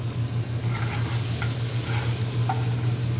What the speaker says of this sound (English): We're going to throw half the amount of onions in there. That's great. Saute those up for a minute.